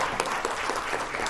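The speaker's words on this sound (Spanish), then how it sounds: "Un aplauso." An audience applauds after a panel speaker on Central American women, journalism and human rights, a steady, moderately distant clatter of many hands.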